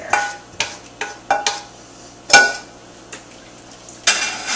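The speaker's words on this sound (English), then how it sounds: "I'm just going to give it a quick stir" A spoon stirring beef stew with red wine, onion and garlic in a pot, giving a series of distinct clinks and scrapes against the metal at an uneven pace over a quiet background.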